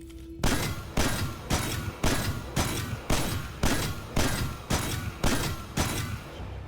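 A Loud Lullaby hand cannon in a shooter video game fires about eleven evenly spaced, loud booming shots at a slow measured cadence, each with a sharp crack and brief tail.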